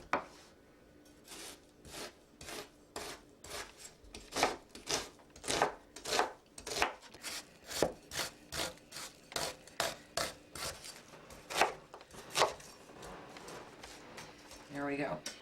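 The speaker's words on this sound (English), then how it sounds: "I'm going to take 2 onions and I'm going to chop them" Two onions chopped with a knife on a board, a long steady run of crisp close chopping strikes at a brisk even rhythm, fairly quiet, with some talk alongside.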